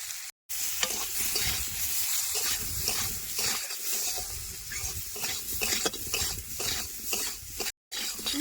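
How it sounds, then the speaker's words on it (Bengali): Steady frying sizzle of potatoes with salt and turmeric in a pan, with repeated stirring scrapes and soft clinks, continuous and close, with no talking. "হলুদ দিয়ে ভালো করে ভাজা ভাজা করে নিচ্ছি"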